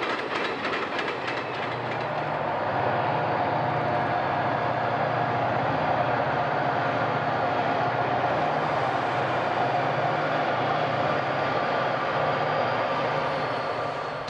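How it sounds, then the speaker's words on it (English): A freight train on the Central Vermont Railway rumbles steadily along the tracks at about 40 miles an hour, with a sustained roar and faint rhythmic clatter of wheels, close and loud throughout. "freight trains chugged along at a healthy 40 mile an hour clip"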